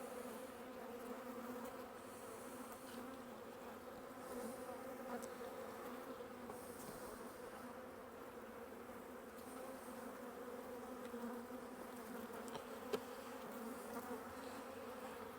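Honey bees swarm with a steady, dense buzz around an open hive during an inspection as they grow agitated, the hum constant and close throughout with a brief click near the end.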